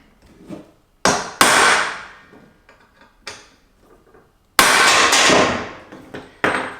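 Hammer peening over the ends of HAGz Beaver rod ends, sharp metallic strikes ringing out at irregular intervals, loud and close, with quieter taps between the heavier blows and no voices.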